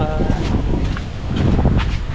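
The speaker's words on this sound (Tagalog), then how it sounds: "Lakas ng hangin." Strong wind buffets the microphone in rough, roaring gusts throughout, with a rustling, blustery texture close by.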